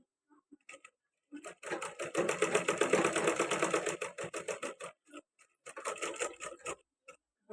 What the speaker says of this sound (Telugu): అలా 2 కుట్లు వేసేసుకోవాలి.